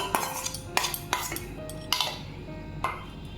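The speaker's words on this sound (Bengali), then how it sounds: "ফেটানো দইটা মিশিয়ে দিচ্ছি" Beaten curd mixed into bael fruit pulp in a bowl for a summer sherbet. A spoon knocks and clinks against the bowl in a handful of sharp, uneven taps, with a wet stirring swish between them, close and clear.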